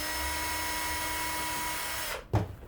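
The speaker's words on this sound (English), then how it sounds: "Have the drill against the deck." A drill runs steadily with a constant whine, then stops abruptly, followed by a brief clunk, as a motor is removed from a sealed unit block.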